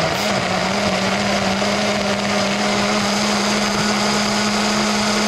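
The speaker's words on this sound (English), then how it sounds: "like this little bullet though that's kind of a mini blender" Small bullet-style mini blender whirring steadily as it purees tomatillos, garlic, habanero and jalapeno peppers, a constant close motor whine that holds without a break for the whole stretch.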